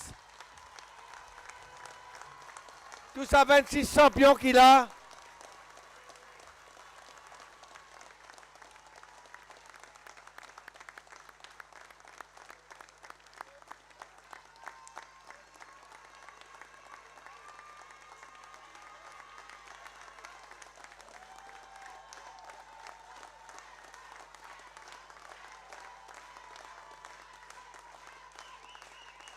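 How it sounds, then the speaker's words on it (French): A short, loud burst of audience applause at a party presentation of National Assembly candidates, lasting about a second and a half, set between stretches of someone speaking French into a microphone. "je me demande bon applaudissement pour tout ça"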